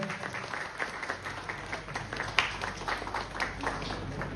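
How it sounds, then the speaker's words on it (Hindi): An audience at an annual celebration claps to welcome a guest from the Deendayal Port Authority, the scattered applause faint and distant with an uneven patter. "स्वागत करें तालियों से"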